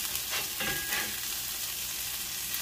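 A striped bass fillet frying in a pan gives a steady, close hiss and crackle of oil, with a brief disturbance near the start as the fish shifts in the pan.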